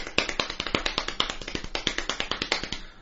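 Quick run of sped-up hand claps tapped on a knee in a music track, a steady rapid train of sharp, close slaps, about five per second and evenly paced, heard alone.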